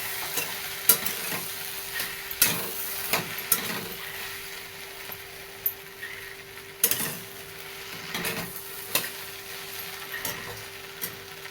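Okra stir-fried with peanut powder for a dry bhindi sabzi, a soft continuous sizzle broken by repeated sharp spatula scrapes and clinks against the pan at irregular intervals, close and without talk.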